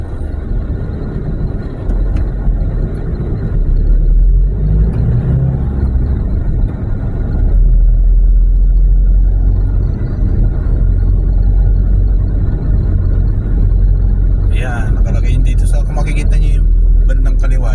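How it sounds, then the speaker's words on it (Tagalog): Heavy highway traffic on the Santo Tomas stretch near the Star Tollway, a constant low rumble of engines and tyres that stays loud throughout, with a person talking over it. "Ayun, traffic na naman."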